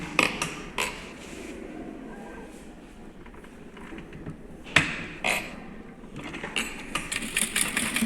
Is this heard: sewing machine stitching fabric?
yes